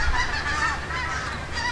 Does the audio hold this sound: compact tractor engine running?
no